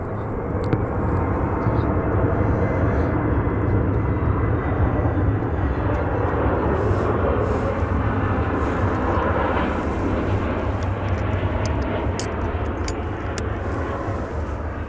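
A twenty-year-old Boeing 747 airliner at DFW Airport gives off a loud, steady jet roar that holds constant throughout, with faint intermittent clicks above it.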